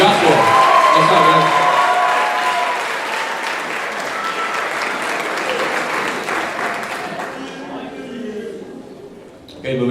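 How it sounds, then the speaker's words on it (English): Banquet crowd at a high school band awards night claps loudly with some cheering, the applause strong at first, then thinning and fading toward the end as a voice begins speaking over it. "give a big round of applause for Bailey,"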